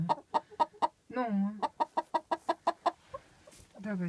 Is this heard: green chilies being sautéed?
no